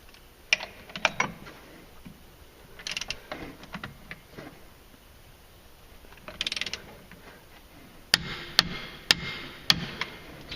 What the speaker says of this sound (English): the primer is going to get torqued to 89 foot-pounds, just a straight up 89